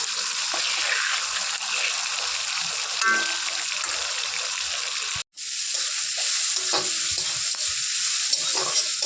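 Onions, three green chillies and five-spice fry in leftover fish oil in a pan, making a steady close sizzle with stirring scrapes throughout and a momentary gap.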